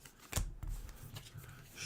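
Playing cards from the Spire's End board game are riffled and shuffled in a quick, faint flurry of papery snaps.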